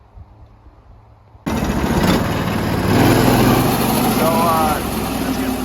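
A sawmill engine runs steadily and loud before the first cut into a black walnut log, starting abruptly after a quiet lead-in and holding a constant droning hum, with a brief spoken word.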